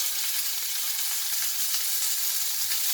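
Ready-made Adana kebabs fry in a hot pan at home, giving a continuous, close, bright sizzle that holds steady throughout with no voices.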